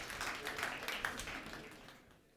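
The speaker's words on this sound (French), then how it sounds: "On applaudit." An audience at a business presentation event in Tunisia applauds, the quiet clapping thinning and fading out by the end.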